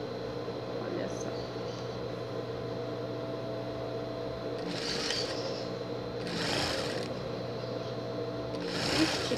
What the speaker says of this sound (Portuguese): Você vai pegar a manguinha e vai costurar ela aqui em volta.